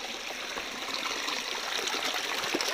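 A small river flows steadily nearby, a continuous broadband rush and babble of water that holds an even level throughout with no talking.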